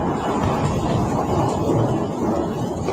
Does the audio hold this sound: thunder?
yes